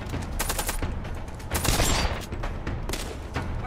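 Rapid shotgun blasts from a first-person shooter game, several loud close shots in quick bursts with short gaps, no talk over them.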